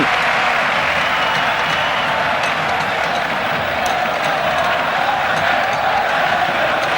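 Spectators at the 1996 futsal World Cup final between Spain and Brazil in Spain, a loud sustained roar of cheering and clapping filling the arena, dense and continuous with sharp claps scattered through it.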